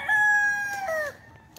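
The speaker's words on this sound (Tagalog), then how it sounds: "Ah, puro manok no." Rooster crowing at a large chicken farm in Tanay, Rizal, one loud, close drawn-out cock-a-doodle-doo call that rises then falls and fades, with faint clucking from other chickens behind.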